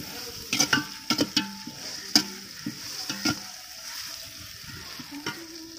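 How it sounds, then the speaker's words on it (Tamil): Chopped large onions frying for a village-style biryani, with a soft sizzle beneath repeated close scraping and clinking strokes of a stirring spoon in an uneven rhythm. "வெங்காயம் வந்து நல்லா சாஃப்டாகிற அளவுக்கு அதை நல்லா ஃப்ரை பண்ணிக்கிறதுக்கு"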